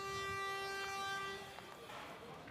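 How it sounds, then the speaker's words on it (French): A coach driver's horn sounds at a pétanque semi-final in Béziers, one sustained, fairly distant honk lasting over a second before fading, with voices talking in the background. "je crois que c'est un chauffeur de car qui klaxonne"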